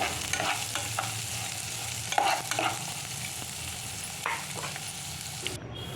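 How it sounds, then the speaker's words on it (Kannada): Onions frying in a pan for a village-style bamboo shoot stir-fry, a steady close sizzle with scraping stir strokes throughout and no talking. "ಈರುಳ್ಳಿ ಚೆನ್ನಾಗಿ ಫ್ರೈ ಆಗಿದೆ."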